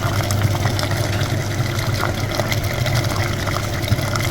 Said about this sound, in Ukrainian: Включаємо двигун.